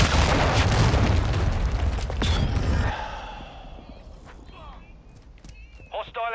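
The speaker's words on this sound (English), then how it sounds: "Hostile cruise missile launched." A cruise missile blast in Call of Duty: Modern Warfare II, a loud booming explosion with rumbling debris that dies away into quieter battlefield noise and scattered voices.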